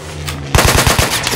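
Rapid machine-gun burst in the Mud and Blood war game, a quick run of loud, evenly spaced shots fired close by after a short stretch of quieter background.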